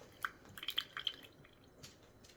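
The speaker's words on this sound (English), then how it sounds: "So I'm going to add 30 grams of water." Water being poured into a jar of sourdough starter during feeding, heard as a short burst of soft splashing and dripping near the start, then quiet.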